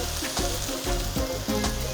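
Champignon and button mushrooms sautéing in milk in a pan, a dense, continuous frying sizzle with a few stirring scrapes, close and fairly loud, without speech.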